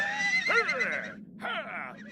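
A horse neighs twice in quick succession, a loud shrill whinny with a falling tail followed by a shorter second call, over a faint low background.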